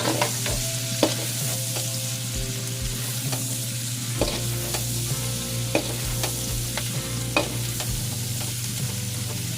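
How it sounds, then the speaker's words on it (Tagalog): Onion and garlic sautéing in a pan for pork humba, with a steady sizzle and frequent scrapes and taps of a utensil stirring at close range. "Simulan natin yung aroma ng sibuyas at saka bawang."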